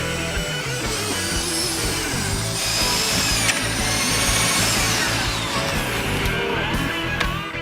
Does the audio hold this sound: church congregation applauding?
no